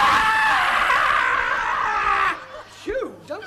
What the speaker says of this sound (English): If you don't let me get back in, I shall scream!